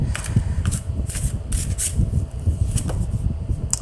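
Tarot cards being shuffled in quick bursts of crisp riffling and flicking, repeated steadily over a low background rumble.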